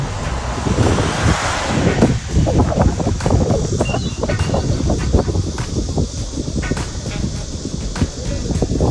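Loud, steady wind roars and buffets the microphone throughout, with gusty rumbling and rustling texture, close and continuous.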